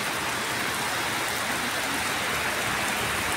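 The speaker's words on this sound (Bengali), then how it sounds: "প্রচুর বৃষ্টি হচ্ছে" Heavy rain pours down in a steady, dense, even hiss that fills the whole stretch without a break, with no voices over it.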